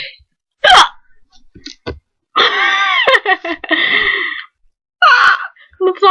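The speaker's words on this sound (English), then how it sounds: "right now I have the real hiccups, like, that I can't control" A young woman with chronic hiccups has an uncontrollable bout, with sharp, loud hiccups at irregular intervals mixed with gasps, sighs and breathy vocal sounds, close to the microphone.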